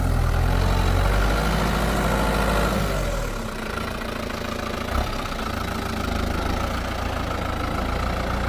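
New Holland TD90 tractor with a synchro shuttle gearbox pushing a full dozer blade of material, its heavy diesel engine loud and labouring, then dropping to a lower, rougher throb partway through with a brief knock.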